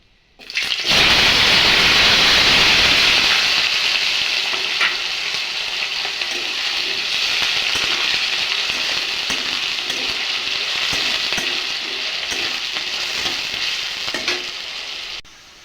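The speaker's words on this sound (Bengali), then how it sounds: "আলু ছোট ছোট করে ভাজা নিমু" Small pieces of potato hit hot ghee in a pan with a sudden loud burst of sizzling that settles into a steady, close, bubbling fry lasting throughout, with no talking.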